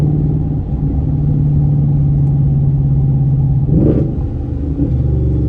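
Steady rumbling drone of a V8 car engine driving on the road, cruising at an even pitch with a brief rise around the fourth second, loud and continuous with no talk.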